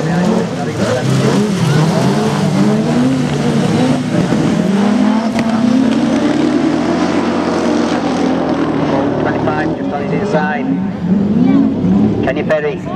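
Race cars at a club race meeting at Scunthorpe, Class 7, charge together into a corner, engines droning loudly and continuously with a steady roar under a commentator's voice throughout.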